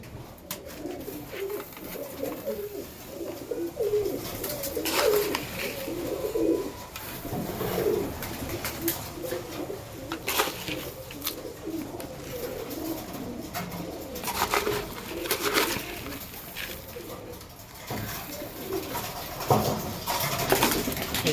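Pet pigeons coo at feeding time, a chorus of soft, repeated throaty coos close by, overlapping in rhythmic bursts, with scattered fluttering and pecking patter between calls.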